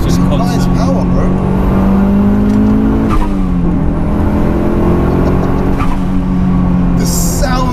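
A 21-year-old Mitsubishi Evo 6 pulling hard on the road, its turbocharged engine droning loudly and steadily as revs climb, with a whooshing change around the shift and someone talking over the cabin roar.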